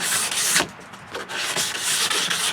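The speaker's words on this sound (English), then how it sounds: "we'll sand it down a bit" Hand sanding of a wooden dog bed platform, a steady abrasive rubbing of sandpaper over wood in continuous close strokes with a few brief pauses.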